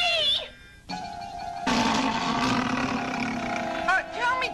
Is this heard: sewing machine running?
no